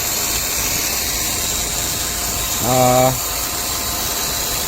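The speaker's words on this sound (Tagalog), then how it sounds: "So boxer engine na Subaru XV." The Subaru XV boxer engine idles steadily under a hissy, noisy background. Someone briefly speaks over it partway through.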